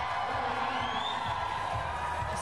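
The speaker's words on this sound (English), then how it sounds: "we have a decent crowd down there just cheering Matt on" A crowd cheers a climber from below at an indoor bouldering national cup competition, a steady distant wash of voices and whoops, fairly faint and continuous.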